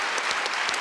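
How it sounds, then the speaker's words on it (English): Applause from a conference audience honoring humanitarians, a dense, steady wash of many hands clapping close up without a break, with no voices rising above it. "give a huge round of applause to every single humanitarian out there around the world"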